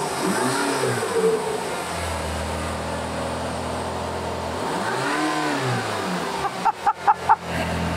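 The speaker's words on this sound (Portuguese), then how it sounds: "E a partida, senhoras e senhores, do V8 alemão." A Mercedes-AMG GT Black Series V8 engine starts, rumbles and rises in sweeping revs, twice climbing and falling in pitch, then a few sharp bursts of throttle blips close by.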